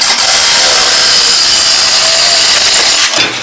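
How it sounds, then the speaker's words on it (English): A power tool saws through the exhaust pipe of an abandoned 1976 GMC truck, a loud, continuous harsh grinding rasp held for several seconds before it winds down. "let's cut the exhaust off, make this thing loud"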